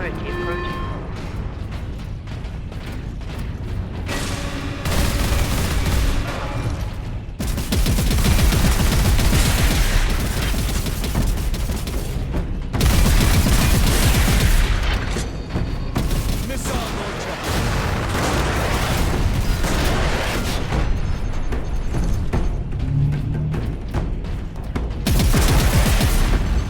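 Dense gunfire and explosions fill the Space Marine video game action, a loud continuous barrage with booming bursts layered over music and effects, and voices are heard alongside.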